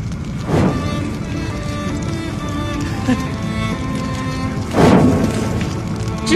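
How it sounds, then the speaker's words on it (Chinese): Two sharp, booming gunshots ring out in a tense confrontation scene. One comes early and one near the end, both loud and close over a steady bed of dramatic background music. "我开枪了。"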